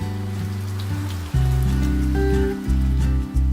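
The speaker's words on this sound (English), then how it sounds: "It's raining." Sudden heavy rain in Guangzhou, a dense continuous patter on surfaces that grows louder partway through, with no talking.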